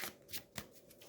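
A deck of cards for the board game Eldritch Horror being shuffled by hand, three or four quick crisp riffling bursts, close and quiet with no talking.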